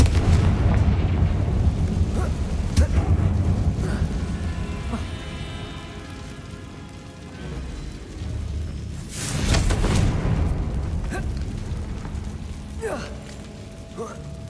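Confringo fire-spell blasts in a Harry Potter video game, heavy booming explosions over a dense, continuous game soundscape with layered effects and a spoken spell name, one especially strong burst near the middle.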